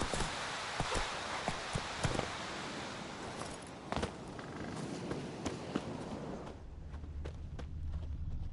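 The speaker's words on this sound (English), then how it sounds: "That's his horse. What's its name? Scorpion? Beautiful animal." A horse walking in the game The Witcher 3 sounds as clear, steady hoof clip-clops, near and fairly loud, with soft rustling around it and a few sharper knocks.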